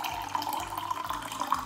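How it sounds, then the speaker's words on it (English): Tap water runs into a glass, a steady close splashing pour with a faint rising hollow tone, heard alone. "Okay, so you take a glass of water,"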